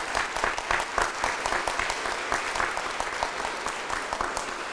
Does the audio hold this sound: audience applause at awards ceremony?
yes